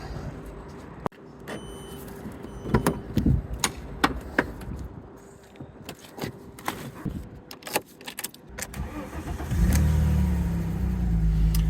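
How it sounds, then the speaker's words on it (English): An Alfa Romeo with suspension and brake wear sits quiet while clicks, knocks and jangling handling sounds build, then the engine starts near the end and settles into a steady, close idle rumble. "Engine starts normally."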